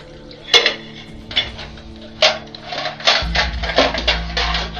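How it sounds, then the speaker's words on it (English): Pans and dishes clank sharply while being washed, several distinct metallic knocks spaced irregularly, then running water starts and continues beneath further clatter. "You get to hear clanking noises."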